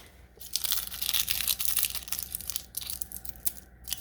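Brittle, disintegrating factory plastic wire loom on an old 2004 Saturn Vue crumbling and crunching in the hands, a close, dry, irregular crackle of tearing and crushing bursts, with no talking.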